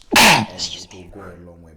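A single loud, close sneeze bursts out abruptly, followed by a person talking in a conversational setting.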